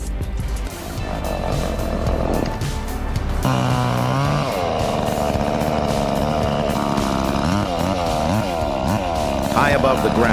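A chainsaw cutting a tree high above the ground whines loud and close, revving up and down through the cut under a continuous narrating voice.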